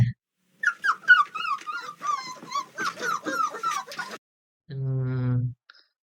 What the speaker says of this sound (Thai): เสียงหมากำลังอ้อนหรือโดนตีแบบหรือเปล่าก็ไม่รู้นะครับ